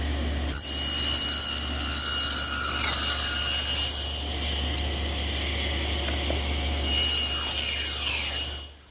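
A table saw cutting rabbets in wood for a blanket chest, the blade set about a quarter inch above the table: a steady motor hum with two bright, whining cuts, one long and one shorter near the end.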